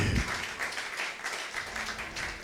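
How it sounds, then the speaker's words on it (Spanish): A church congregation gives a short offering of applause, a steady wash of clapping held at an even level for a couple of seconds with no voices over it. "Fuerte la ofrenda de aplauso al que vive."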